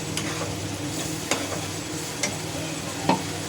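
Crab curry base with onion-tomato paste being stirred in a pan, a steady low sizzle underneath and a few soft scraping knocks of the spoon, moderately close, no talking.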